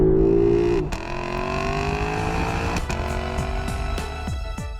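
The naturally aspirated V8 of a 2018 Lexus LC 500 revs hard, climbs in pitch and then drops off. Several sharp rev blips and falling pitch sweeps follow, loud and close, with no talk.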